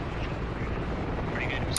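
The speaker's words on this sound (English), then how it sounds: "the helicopter takes off" Helicopter lifting off in the Squad Ops military shooter game, a steady broadband rotor and engine roar that holds loud and constant throughout, with a faint voice mixed underneath.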